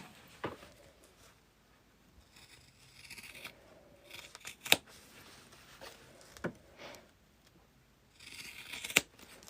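Scissors cutting through sewn fabric on a boxy bag, several sharp close snips at irregular intervals with soft rustling of cloth between them, quiet overall and no talking.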